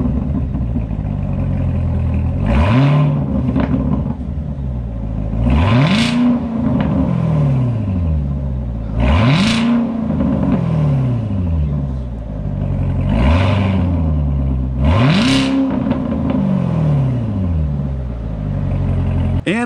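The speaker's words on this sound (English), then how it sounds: "You don't get any snaps or crackles, but it's still a loud exhaust on the Z06. This one's somehow even louder." A Corvette ZR1 with a very loud exhaust revs repeatedly, five or six sharp climbing roars that fall back to a deep idle rumble between them, close and powerful.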